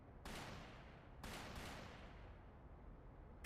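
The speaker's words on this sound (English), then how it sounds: "Gunshots! From the next district!" Three distant gunshots boom in the video game Trails through Daybreak II, each a sharp report trailing into a long echoing decay, the middle two close together, fairly quiet with no talk.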